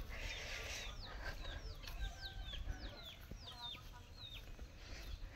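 A hen clucks softly outdoors over faint background noise, with several short, repeated calls spread through the moment, quiet and somewhat distant.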